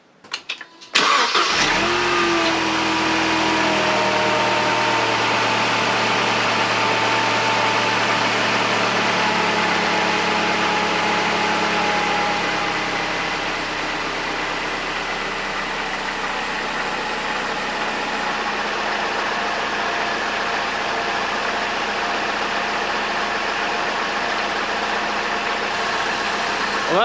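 A Mercedes SLK under restoration cranks briefly and fires. It then settles into a steady, loud idle that holds for the rest of the stretch, with no voices.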